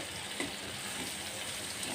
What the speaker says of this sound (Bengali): এই যে নেড়ে চেড়ে আর কি উল্টে পাল্টে ভেজে নিচ্ছি